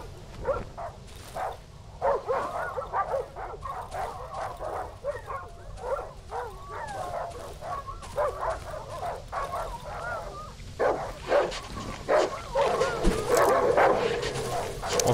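Several dogs bark and yip in the horror survival game Darkwood, a busy run of short barks and whimpers around a ruined barn, heard under someone talking.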